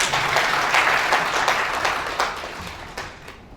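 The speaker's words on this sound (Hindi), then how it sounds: "जोरदार ताली आप लोगों के लिए भाई" Loud, sustained applause from an audience at an indoor store meeting, dense clapping filling the whole stretch and tapering slightly toward the end.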